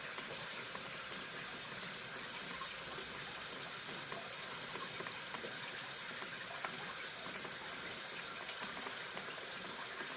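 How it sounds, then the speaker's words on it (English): Hot water runs from a tap for a yarn dye tray, a steady even hiss of flowing water with no breaks, moderately loud and close, with no talking. "I'm just going to get some more hot water."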